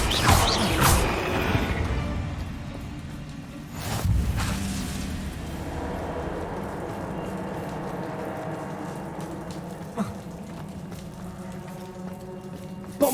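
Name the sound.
Bombarda spell blasting a barrier in video game Hogwarts Legacy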